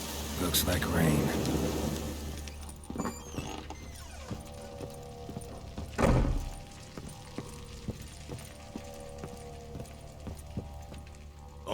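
Steady rain hisses throughout with a rumble of thunder near the middle, and faint voices and game sounds surface now and then, in The Witcher 3 with Spanish dialogue.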